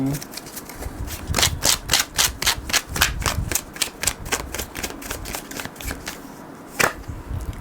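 A tarot deck being shuffled by hand and cards drawn, giving a rapid run of crisp, close riffling clicks and flicks, then a single sharp snap near the end.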